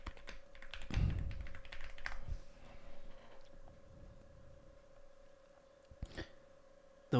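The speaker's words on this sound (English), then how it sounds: "The way my keyboard sounds gets me bricked." Clicking keystrokes on a computer keyboard, a quick cluster of taps in the first few seconds that thins out toward the end, recorded close and fairly quiet.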